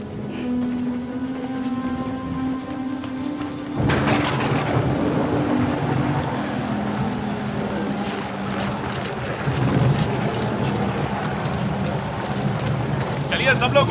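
Steady rain falling, a continuous broadband hiss with a low rumble that swells after a few seconds and carries on evenly, preceded by a faint humming tone.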